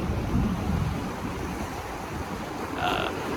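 Ocean waves wash against a rocky shoreline in a steady, rough roar mixed with wind noise, close and continuous with no talk.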